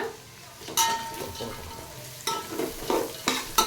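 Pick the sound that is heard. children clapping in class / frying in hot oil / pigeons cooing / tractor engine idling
frying in hot oil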